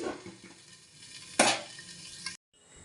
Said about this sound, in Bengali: তো চলো এখন ঢাকা দিয়ে এটাকে ভেজে নিই।